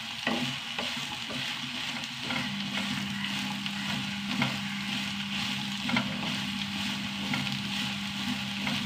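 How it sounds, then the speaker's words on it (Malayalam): Eggplant stirred and sautéed in a hot pan, a steady sizzle of frying under repeated scraping and stirring strokes, close and continuous with no talk. "വഴുതനങ്ങ ഇങ്ങനെ വഴണ്ട് വന്നിട്ടാ നന്നായി വറുത്തെടുത്ത പോലെയായി"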